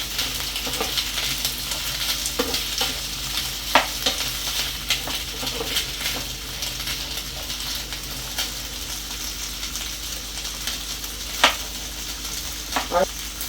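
Corn kernels fry in ghee with a soft, steady sizzle, broken by scattered pops and the occasional clink or scrape of stirring in the pan.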